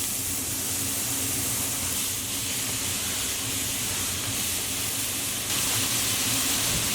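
Diced onion sizzling in sesame oil in a pot over medium heat, a steady, dense hiss and crackle that continues evenly throughout and swells slightly near the end.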